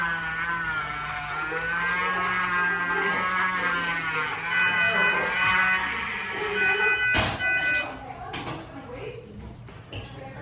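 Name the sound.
alarm beeping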